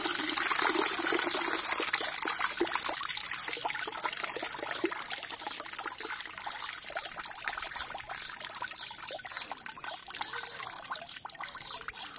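Water trickles and splashes steadily for a pet parrot, a continuous bright running stream without speech.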